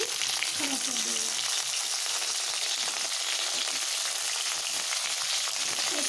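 Okra (bhindi) sizzles steadily in a hot pan for an Odia-style bhindi curry, a constant bright frying hiss with faint crackles throughout.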